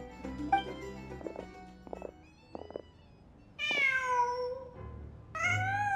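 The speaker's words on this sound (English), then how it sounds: "Just a cat." A cat meowing in the video game Genshin Impact: a few short soft mews, then two longer, louder drawn-out meows near the end, close and with nothing else around them.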